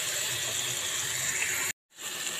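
Water pours steadily into a tomato curry on the stove, a continuous splashing gush that stops abruptly near the end and gives way to a softer sizzle and bubbling, with no voices.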